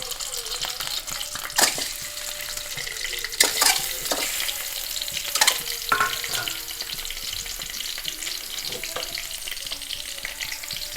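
Eggs sizzle in hot ghee in a pan for a Mangalorean egg ghee roast, a steady frying hiss broken by several sharp scraping and clattering stirs, close and loud with no talk.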